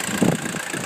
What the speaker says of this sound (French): le moteur il tourne impeccable